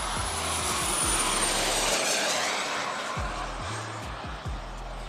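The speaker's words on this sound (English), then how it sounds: "One of the most impressive high-performance model jets out there, designed for both classic aerobatics and, shall we say, ambitious 3D flight." A Tomahawk Aviation Futura XXL model jet flies at an airshow, its turbine giving a steady loud whine and hiss that fades slightly toward the end, with low rumbles underneath.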